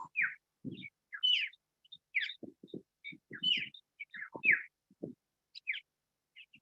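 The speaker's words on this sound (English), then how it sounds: "And remember to listen to the birds." Birds sing in quick, bright chirps and short twittering phrases, fairly faint, scattered among soft low thumps in a quiet setting.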